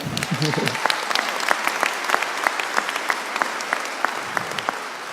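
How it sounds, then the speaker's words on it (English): A graduation audience at the 2017 WGU Tennessee commencement breaks into sustained applause, dense clapping with distinct sharp claps standing out, after a brief voice at the very start. "You can clap for that"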